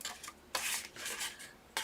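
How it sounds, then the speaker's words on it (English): A blade slices paper along a score line while making a fold-flat gift card box: faint, close, dry rasping strokes. A few soft scrapes are followed by two longer, louder cuts. "Cut up the score line. Cut off a little bit more than half."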